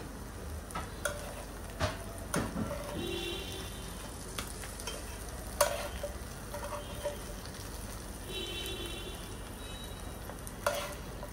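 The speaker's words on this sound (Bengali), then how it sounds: "সেরকমই বেগুন দিয়ে মাছ ভাজা করলাম" Fish and eggplant fry together in a pan, giving a steady low sizzle with scattered sharp clicks and scrapes of a utensil stirring through the oil, with no talk.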